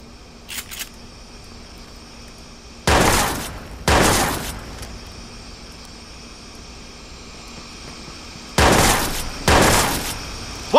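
Gunfire in Watch Dogs, loud sharp volleys of shots in separate bursts, two pairs of rapid blasts with quiet gaps between them and faint distant pops early on.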